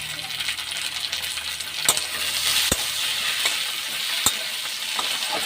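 Chopped tomatoes hit a pan of frying onions with a steady, bright sizzle that runs throughout, broken by a few sharp clinks of a spoon against the pan.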